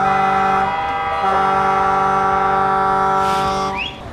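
A loud, harmonic semi-truck (lorry) horn blares in long sustained blasts, briefly dipping and resuming, then cutting off near the end.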